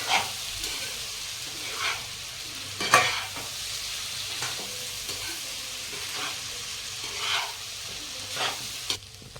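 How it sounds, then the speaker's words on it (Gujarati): Cooked rice is mixed slowly into vegetable pulao in a pan, with a quiet sizzle underneath and soft scraping strokes recurring every second or two, plus one sharper clack; no speech. "આ રીતના ભાત નાખી દઈશું અંદર અને આપણે બહુ હલાવીને ધીરે ધીરે આ રીતના મિક્સ કરી દઈશું"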